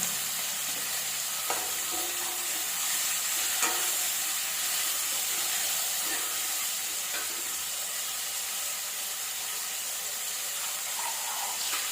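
Tomatoes sauté in a pan for an eggplant and chickpea kara kuzhambu, with a steady, even sizzle and occasional light stirring taps heard up close.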